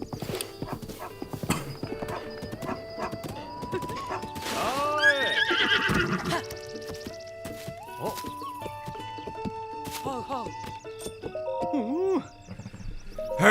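A horse in Zelda: Breath of the Wild clip-clops and neighs, with rhythmic hoof steps throughout and a loud whinny near the middle, layered over game music tones and chimes.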